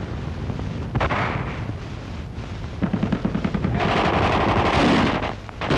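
Gunfire from men fighting in the streets during the liberation of Paris, with rapid bursts and scattered shots crackling throughout, loud and fairly close, heaviest toward the end.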